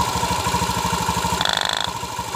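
A motorcycle engine runs steadily at idle with a rough, throbbing pulse, then the throttle is pressed briefly and the revs rise before dropping back; the engine is close and loud, with no talk over it.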